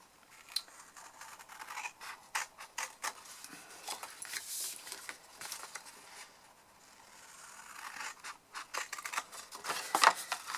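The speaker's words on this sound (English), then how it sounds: "you're just cutting away all 4 corners" Scissors snip repeatedly at the corners of a paper gift box, quick close crisp cuts in rapid clusters, quiet with no talking.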